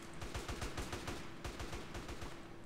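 Rapid bursts of gunfire in the online survival game MTA DayZ, a quick string of sharp, evenly spaced shots forming a continuous volley, moderately loud.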